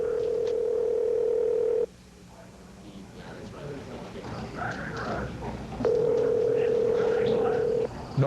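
Steady telephone dial tone from a 1986 call to a disconnected New Jersey number rings out loud and unanswered at the start, drops out for a few seconds of background noise and faint voices, then returns near the end.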